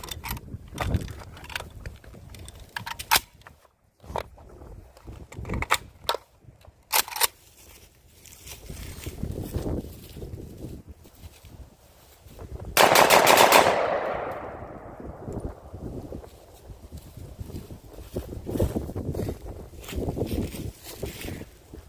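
A PSA AK-105 rifle fires, with sharp loud gunshot reports, a dense burst near the middle and a long decaying echo, followed by quieter metallic clicks and handling noises as the action fails to eject and feed.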